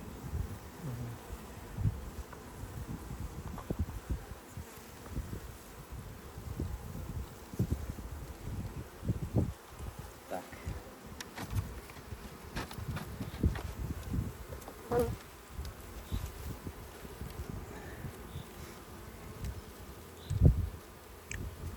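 Honey bees buzz around hives at a forest apiary, a steady close droning hum with passing individual bees and light wind noise throughout.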